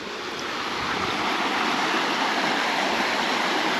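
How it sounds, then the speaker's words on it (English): A woodland creek flows beneath a small footbridge, a steady, close, broadband rush of water that swells slightly at the start and then holds even, with no voices. "The creek's making its way down."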